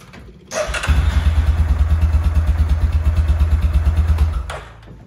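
A Yamaha Rhino 450 side-by-side, fitted with an upgraded ECM and fuel pump, cranks briefly and catches, then settles into a steady, loud, close single-cylinder idle before being shut off.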